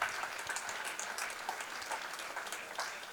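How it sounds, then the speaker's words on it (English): A warm round of applause rises from the audience at a Catholic Archdiocese of Lagos family and human life gathering, soft and distant, with a steady patter of many hands. "A warm round of applause."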